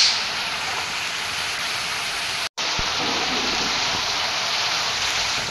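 Steady broadband rain hiss in the mobile game Bus Simulator Indonesia, loud and continuous, broken only by a brief silent gap midway.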